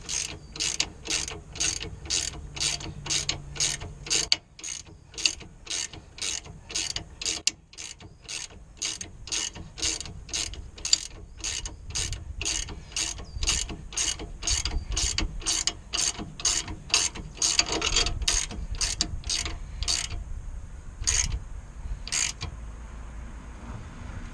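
Ratchet wrench tightening the outer tie rod end on a Ford Fiesta Mk6, a long run of rapid, evenly spaced clicks close up, continuing steadily with no talk.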